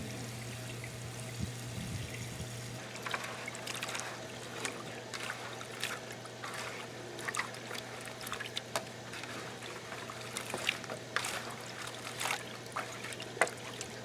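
Faucet water runs steadily while mud is washed off freshly harvested carrots, a continuous close splashing and trickling with scattered knocks and clatter, no talking.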